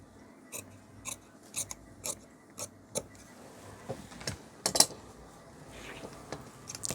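Scissors snip through blouse fabric on a tailor's table, a series of crisp separate cuts in an uneven rhythm, close and fairly quiet, with no talking.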